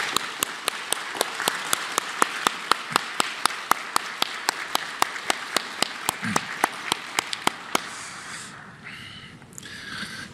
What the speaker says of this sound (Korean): 우리 박수를 한번 보내드리도록 하겠습니다